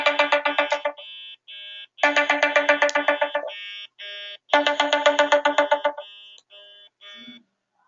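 A mobile phone ringtone plays loudly in repeating bursts: quick rapid trilling electronic notes alternating with sustained beeping tones, cycling three times with short pauses, with no talking.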